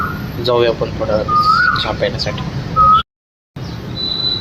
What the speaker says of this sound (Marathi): पाठीमागून कोकिळीचा आवाज येतोय.